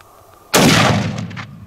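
A single loud rifle shot cracks out during a hunt in South Africa, a sharp sudden blast followed by a rumbling echo that fades over about a second.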